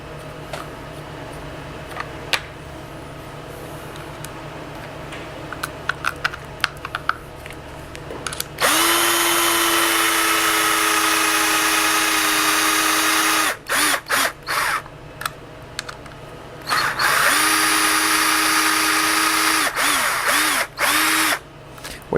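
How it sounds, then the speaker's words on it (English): A power drill drives screws into a plastic USB sequential gearbox assembly, whirring loudly in several long bursts that cut off abruptly, after a stretch of quieter background noise. "So, in there, drill it in."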